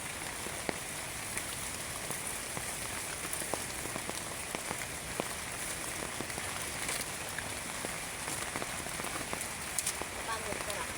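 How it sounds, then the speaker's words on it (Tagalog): Steady rain falls outdoors in a dense, continuous patter of drops hitting surfaces, moderately close and unbroken throughout. "umuulan."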